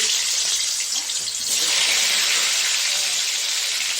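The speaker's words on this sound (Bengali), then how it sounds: "এখন এগুলি ভেজে নেবো মাংসগুলি" Marinated chicken pieces dropped into hot oil already used for frying potatoes, giving a loud, close, hissing sizzle that surges halfway through and then holds steady.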